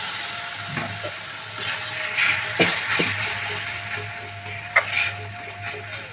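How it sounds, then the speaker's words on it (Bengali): Kashmiri chilli powder masala frying in a pan with a splash of water, a soft steady sizzle with scattered clicks and light stirring scrapes, close and fairly quiet, no talking. "কাশ্মীরি লঙ্কার গুঁড়ো মশলা ধোয়ার জল একটু দিয়ে দেবো মশলাটা কষাতে সুবিধে হবে"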